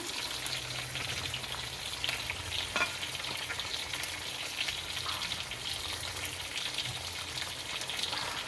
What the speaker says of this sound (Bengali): পনিরটা দিয়ে দিলাম